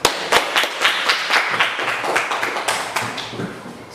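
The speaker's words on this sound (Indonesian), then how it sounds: "Kita kasih aplaus." A small group in an Islamic religious education class gives brief applause. Sharp, irregular claps ring close by and thin out toward the end.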